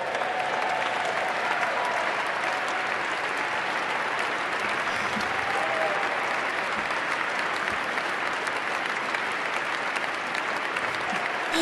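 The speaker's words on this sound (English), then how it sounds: "Look at the applause." A large crowd at a political address applauds continuously, a dense, even roar of clapping that holds at steady loudness, with no clear talk over it.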